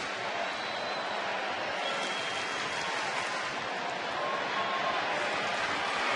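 A big sellout standing-room-only crowd at a Rangers-Angels baseball game in Arlington roars in a steady, dense wash of cheering and noise, distant and continuous throughout.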